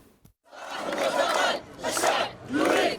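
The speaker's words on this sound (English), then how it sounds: "chanting slogans against the Makhzen, clapping and singing" A large protest crowd gathered before Parliament in central Rabat, chanting slogans in loud rhythmic bursts that swell and fall in three waves after a brief quiet start.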